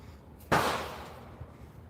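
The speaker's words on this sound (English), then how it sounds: "That was a whole gunshot." A single gunshot outside, one sudden loud crack followed by a fading rumble of echo, then quiet background.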